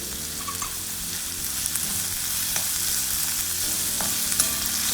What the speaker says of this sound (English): And mix it well and cook it for some time.